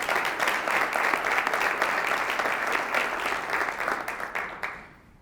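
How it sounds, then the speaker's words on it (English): A school-district presentation audience applauds its board, steady even clapping from a room full of people that carries on for several seconds and then tapers off at the end. "If we can give a round of applause for our board,"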